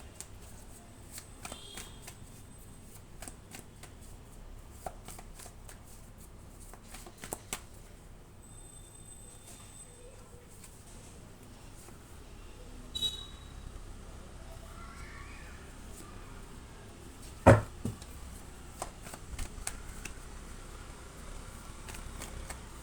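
Angel oracle cards are shuffled for a reading, giving soft, faint papery riffles and flicks in scattered bursts over quiet room tone, with an occasional light tap.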